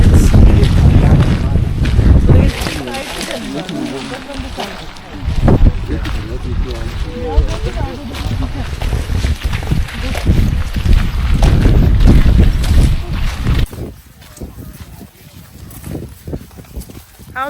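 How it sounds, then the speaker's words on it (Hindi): Cool wind gusts outdoors on a scenic walk along the Garden Route, buffeting the microphone as a steady, rumbling roar that continues throughout while people talk over it. "ठंडी हवा चल रही"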